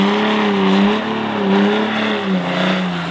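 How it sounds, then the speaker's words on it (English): An aftermarket exhaust on a Ram EcoDiesel pickup truck rumbles close by, swelling in a few short revs over a steady diesel idle. "we did the Eco Diesel exhaust, as you can see. It sounds amazing"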